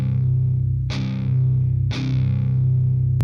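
Half palm-muted distorted electric guitar plays a riff, sustained ringing chords struck about once a second, each attack bright then settling into a buzzing hum, close and loud with no talking.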